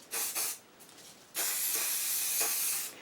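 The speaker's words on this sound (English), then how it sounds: "you're going to spray this at about 12 inches" Hairspray hisses from an aerosol can onto a handmade card design, in two short bursts followed by one long steady spray lasting about a second and a half, close and fairly loud with no talking.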